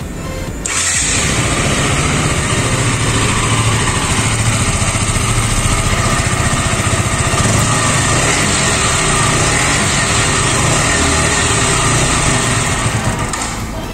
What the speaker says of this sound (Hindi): आपको एक बार स्टार्ट करके दिखा देता हूँ बाइक, और साउंड भी सुना देता हूँ अंडर बेली एग्जॉस्ट का